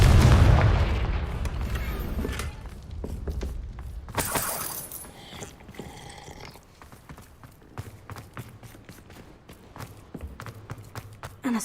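Confringo spell explosion in Hogwarts Legacy, striking a table: a loud initial blast and crackling burst, then a second sharp boom with shattering debris, fading into scattered clattering pieces and soft thuds.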